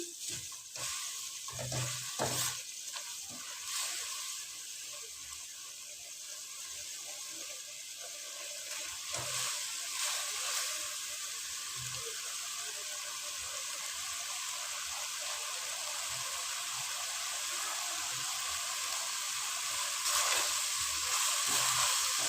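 Chicken spring roll filling sizzles steadily in a pan, a continuous bright frying hiss with a few louder stirring scrapes near the start and middle, close and fairly loud, with no talking over it.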